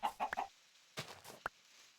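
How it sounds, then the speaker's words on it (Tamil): Chickens in the game Minecraft cluck in a few short, close bursts, a quick cluster of clucks, then a pause, then another couple of isolated clucks with no talk. "கோழியா"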